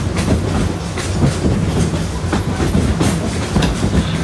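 The Wildlife Express passenger train at Disney's Animal Kingdom rumbles steadily along the rails, with a continuous low roar and faint rhythmic clacking of wheels over track joints.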